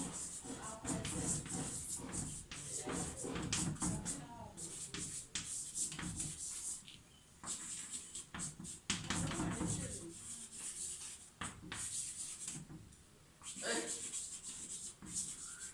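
Pen scratching on paper while handwriting a geometry proof about the converse of Thales' theorem, a faint close series of rubbing strokes in bursts with short pauses, under quiet talk.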